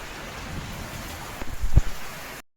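Steady rain falls throughout, with a low rumble of thunder swelling briefly near the end before the sound cuts off.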